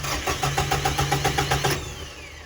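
A UHI tractor engine cranking over in rapid rhythmic pulses for under two seconds, then catching and settling into a steady idle, close and fairly loud with no talk.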